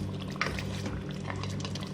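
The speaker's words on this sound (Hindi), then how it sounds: "हाफ कप पानी डाल रही हूँ उसमें" Half a cup of water poured into a pot of chicken nihari after the spices and oil have been sautéed, a steady close liquid pour with light splashing over a low kitchen hum.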